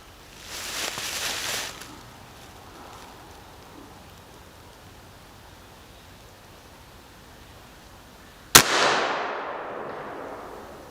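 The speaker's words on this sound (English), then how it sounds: "now we're set up with a little thumper, shooting 480 grain slugs" A big-bore air gun filled to 4,000 psi fires a 480-grain slug through brush, one sharp loud crack near the end followed by a short decaying rush, after an earlier burst of hiss and a quiet outdoor stretch.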